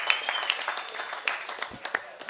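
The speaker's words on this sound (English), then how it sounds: "Round of applause for MyFlora" Applause from a crowd at a cannabis cultivation event in Las Vegas, a busy patter of clapping with a few sharp claps standing out, voices mixed in.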